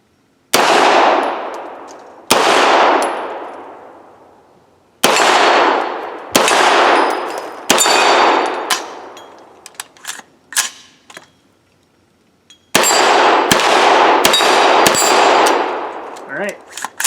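Sharp gunshots from a Brigade BMF AR9 9mm carbine firing 120-grain-class rounds ring out in a broken sequence: two spaced shots, a run of three, several lighter clicks and clanks, then a fast burst of four or five loud reports.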